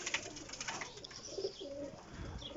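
Pigeons softly cooing nearby, a few low murmuring calls over faint background noise.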